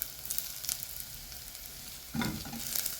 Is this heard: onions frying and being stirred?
yes